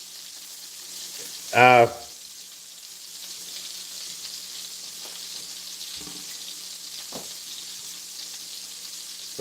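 Sausage sizzling and frying in a pan for breakfast, a steady faint hiss running under the whole stretch with a brief loud vocal burst near the start and a few soft clinks later.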